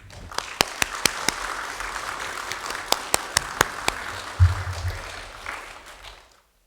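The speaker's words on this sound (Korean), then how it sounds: "박수로 크게 환영하면서 목사님 맞이하겠습니다" A church congregation applauds to welcome a pastor at a worship service, with sharp individual claps rising above steady clapping that tapers off toward the end.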